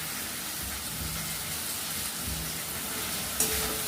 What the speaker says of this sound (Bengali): এবার টমেটো কুচিটাও দিয়ে দিচ্ছি। ভেজে নেবো, ভালো করে মশলাটাকে কষে নেবো